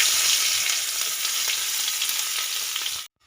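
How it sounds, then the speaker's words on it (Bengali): Chopped onion frying in mustard oil with five-spice in a wok, a loud, steady close-up sizzle that runs without pause and cuts off abruptly near the end. "পেঁয়াজটাকে হালকা একটু ভেজে নিয়েছি।"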